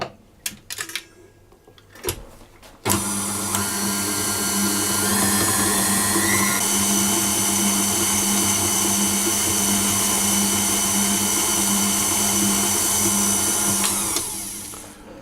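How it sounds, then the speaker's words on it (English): Electric hand mixer beating butter and sugar until fluffy, a steady loud whirring drone that starts abruptly after a few quiet knocks and runs continuously for about twelve seconds before cutting off. "I'm going to beat that until the sugar and butter are nice and fluffy"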